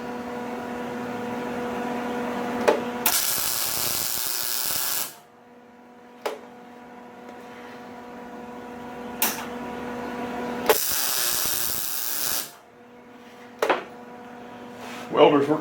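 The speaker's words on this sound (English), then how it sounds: "Welder's working pretty good today." A welder works on a lengthened sliding barn door rail, giving two long bursts of harsh, loud crackling with short sharp pops between them, all over a steady background hum.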